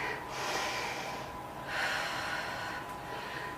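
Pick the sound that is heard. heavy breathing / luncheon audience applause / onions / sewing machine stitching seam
heavy breathing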